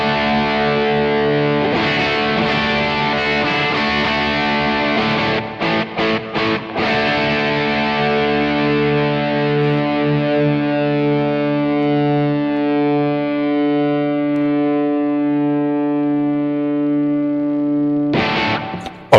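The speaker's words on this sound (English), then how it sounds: "So tonight's guitar tone sounds a bit like this." Electric guitar played through a Kemper Stage floor unit into a Fender amp model, giving a sustained, slightly driven chord that rings out and slowly decays after a few quick strums, then a new strum at the end.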